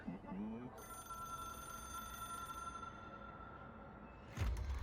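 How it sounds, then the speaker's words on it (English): A telephone rings in the video game Control: a steady electronic bell tone held for several seconds, then a sharp clunk at the end. "It is a phone."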